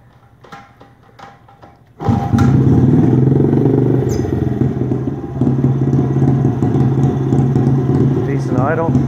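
A Honda XR50 motorcycle with a possible carburetor problem fires on the first kick and settles into a loud, close, steady idle, after a few quiet clicks and clatter beforehand.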